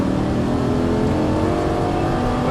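A Lamborghini Gallardo LP550-2 engine holds a steady, loud throttle pull on a track, a dense continuous mechanical roar heard close for a few seconds without speech.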